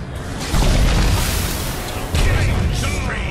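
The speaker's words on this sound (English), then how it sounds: "Explosions!" Dota 2 Techies explosions go off in loud bursts, one at the start and another about two seconds in, with booming blasts layered over game noise and busy action.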